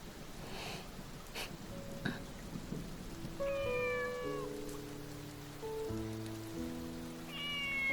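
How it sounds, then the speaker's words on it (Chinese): A kitten meows several times in drawn-out, wavering cries, close and fairly clear, over a soft background hiss that sounds like rain, with faint low rumbles early on. "这是上次救下的小猫"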